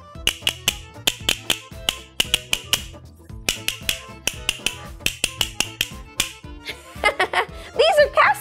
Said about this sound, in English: These are castanets.